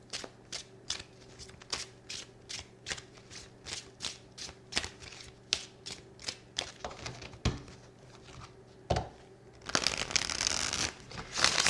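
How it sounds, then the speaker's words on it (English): Tarot cards being shuffled by hand in repeated quick riffling bursts, close and fairly quiet, ending with a denser rustle of cards. "I'm going to shuffle the cards a bit here"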